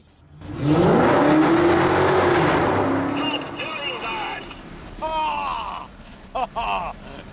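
Someone's car engine revs hard and loud for a couple of seconds, a rising, straining roar, before fading into people talking, on a road trip through Italy.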